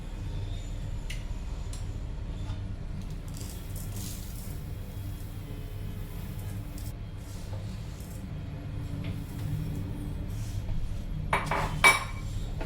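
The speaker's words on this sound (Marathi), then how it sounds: "हे सगळं मिक्स करून घेऊ." Sugar is stirred into grated coconut in a pan, a spoon scraping and occasionally clinking against the metal in a soft, steady rhythm, with a few sharper knocks near the end.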